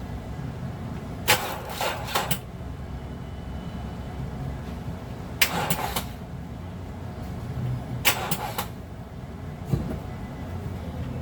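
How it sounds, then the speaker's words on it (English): A 2009 Nissan Murano with a dead battery fails to start, giving four short, harsh bursts spaced several seconds apart over a steady low background hum. "I tried to start the car, so the battery's dead"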